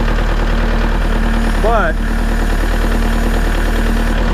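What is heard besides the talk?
Kubota L4701 tractor engine idling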